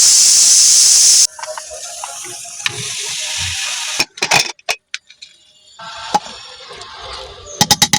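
Pressure cooker cooking mutton opens with a loud, steady steam hiss from its whistle for about a second, then cuts out, leaving softer bubbling and scattered clinks and knocks of the lid and utensils.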